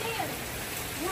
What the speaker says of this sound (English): It's like pouring rain.